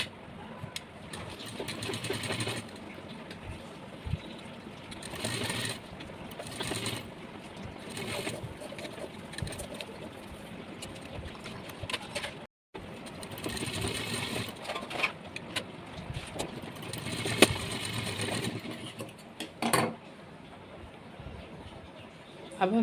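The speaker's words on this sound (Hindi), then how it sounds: "अब हमें घास स्टिच चलानी है।" A sewing machine runs steadily, stitching fabric for a V-neck smock dress, with a continuous close mechanical whir that briefly stops midway and then resumes.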